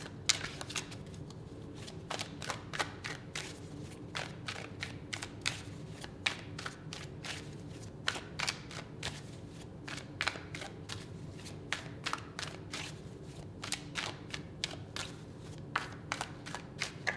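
A deck of tarot cards is shuffled close by, giving repeated crisp riffling flutters and taps in an irregular rhythm for the whole stretch, quiet and with no talking.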